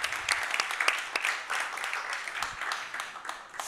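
An audience at an EU policy discussion applauds the Polish presidency, a moderate round of clapping from many hands that stays fairly even and fades slightly by the end.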